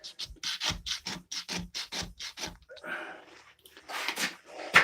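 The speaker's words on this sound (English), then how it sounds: "if you just are scraping the paint, it makes it a lot more difficult" An angled scraper digging into red MAPEI waterproofing membrane on tile, giving repeated rhythmic rasping strokes, about a dozen close, loud scrapes in quick succession, then a rougher irregular scrape near the end.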